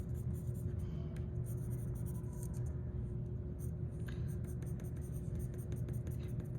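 A colored pencil scratches out individual blades of grass on paper in quick, light, faint strokes over a steady low background hum.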